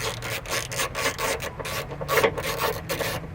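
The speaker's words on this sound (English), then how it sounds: "Now pretty much I just use a long 10mm extension. Go ahead and unbolt this bad boy real quick." A ratchet on a long 10mm extension works loose a bolt on a Chevy Cobalt fuel filter, giving a rapid series of rasping clicks and rubbing strokes close by in a steady back-and-forth rhythm.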